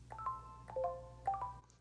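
Soft chiming task-completion tones from an iOS to-do list app play in three short clusters of bright, pinging notes over a low hum, each like a small completion chime.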